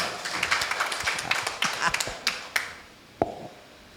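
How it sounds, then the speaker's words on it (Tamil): An audience at a Tamil gathering claps in scattered, irregular handclaps as an honoured guest is welcomed. The claps are sparse and moderately loud over roughly four seconds, with no voices. "ஒரு கையை தட்டுதுங்களா சார்"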